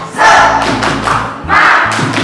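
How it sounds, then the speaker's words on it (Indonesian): Group spirit clapping at a village PKK competition on stunting prevention, heard as bursts of many hands clapping together with heavy thumps, loud and close, two rhythmic waves about a second apart. "Oke, tepuk semangat."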